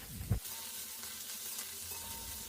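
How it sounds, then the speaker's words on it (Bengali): Small-cut eggplant pieces frying in oil left from frying potatoes, a quiet even sizzle after a brief thump at the start, no voices. "এবার ওই তেলেই বেগুনগুলোও সুন্দর করে ভেজে তুলে রেখে দেবো।"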